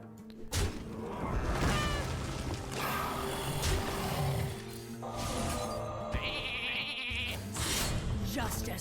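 Cartoonish sheep bleats from a mass polymorph spell in the Hearthstone card game, rising over busy game effects, whooshes and impacts, with a voice talking through much of it.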